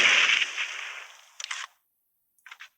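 Grenades launched in a PUBG Mobile match, heard as a loud burst that decays over about a second and a half, then a few short sharp pops and a pair of faint quick cracks after a pause.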